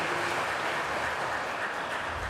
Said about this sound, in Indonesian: Kita tepuk tangan sekali lagi untuk Ketua Panitia Natal pada tahun ini